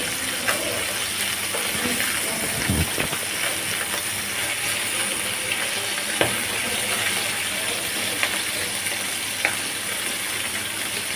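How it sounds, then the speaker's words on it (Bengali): Small fish coated in turmeric and chili frying in hot oil, a loud, dense, continuous sizzle with occasional pops and a few utensil clicks, close up and without speech. "ছোট মাছগুলো একটু না ভেজে রান্না করলে একটু ভালো লাগে না তাই আমি এটা একটু ভেজে নিচ্ছি"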